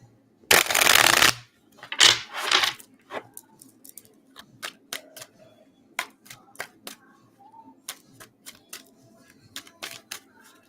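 A deck of tarot cards is riffled in two or three quick bursts, then tapped and squared with sharp, clicking card snaps. The sounds are close and clear, with no one speaking.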